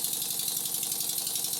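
A Stuart 10V model steam engine runs at speed, giving a fast, even mechanical chuffing and rattling beat, close and loud, with no talk.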